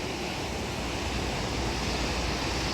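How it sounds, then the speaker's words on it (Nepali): Steady, loud broadband roar of the flooded Teesta river rushing past, a continuous surging wash with no pauses and no voices. "टिस्टा खोला हो यो चाहिँ"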